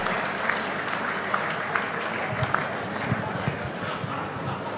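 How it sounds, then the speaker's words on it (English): Steady applause from a large crowd at a World Boxing Convention honoring Lennox Lewis, a continuous wash of clapping with occasional louder thumps and cheers mixed in. "A big round of applause for Lennox Lewis and the great, great memories that he has left."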